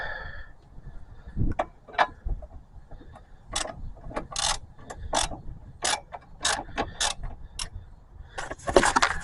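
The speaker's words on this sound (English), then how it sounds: "what I got here is just a box end wrench, and tighten it down as best as I can" A box end wrench tightens the brake caliper bracket bolt on a 2011 Subaru Forester. Sharp metallic clicks and ratcheting bursts come in irregular clusters, loud and close against a quiet garage background.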